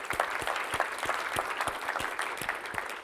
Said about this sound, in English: how about a big round of applause for Patton for putting on Accelerate?